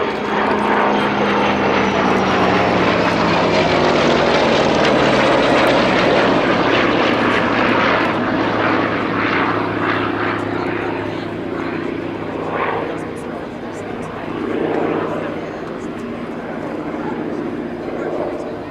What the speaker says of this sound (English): Our right this time, Mig-15 and Sea Fury.